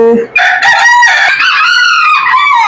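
A farm chicken crows loudly and close in a long drawn-out call, with a brief cluck at the start.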